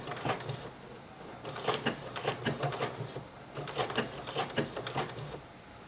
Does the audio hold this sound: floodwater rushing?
no